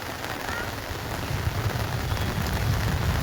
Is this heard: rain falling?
yes